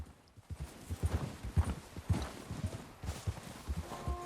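Horse hooves clip-clop in a steady walking rhythm in the video game Red Dead Redemption 2, close and fairly soft, with an occasional faint snort and no talking.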